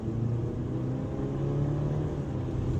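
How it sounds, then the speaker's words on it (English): A 2026 BMW X3 xDrive30 with its 255-horsepower 2-liter engine accelerates from a stop, giving a steady low engine drone and rumble that rises a little as it pulls away, with no talking. "As soon as I put my feet on gas and accelerate"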